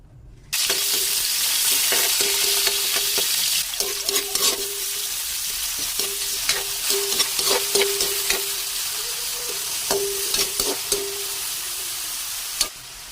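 Onion, ginger and tomato sauté in a hot pan with a steady, close sizzle, while a utensil stirs and scrapes against the pan in repeated short strokes throughout.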